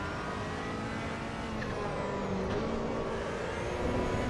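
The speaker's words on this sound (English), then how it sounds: "The sound of this car is so sick." A car engine in Assetto Corsa Evo holds a steady, droning rev, gradually rising in pitch and loudness toward the end, heard alone with no talk.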